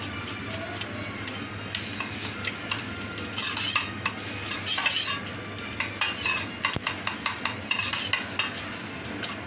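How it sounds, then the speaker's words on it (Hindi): A spoon mashes a tablespoon of yogurt in a bowl, with repeated close metallic scraping and clinking taps in an uneven rhythm. "दही लगाने के लिए आप देख सकते हैं कि हमने 1 टेबलस्पून जो है दही लिया है। अब इसको हम अच्छे से मैश कर लेंगे।"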